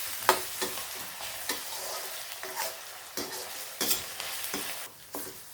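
Onions, curry leaves, coriander leaves and salt sauté in a pan for a crab gravy. A steady sizzle runs throughout, broken by repeated scraping strokes of a spoon stirring the mix. The sound is close and moderately quiet.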